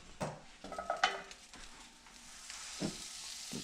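Oil and butter sizzle in a hot pan before speckled trout goes in, a steady close frying hiss with a few clinks and stirring clatters near the start and scattered pops.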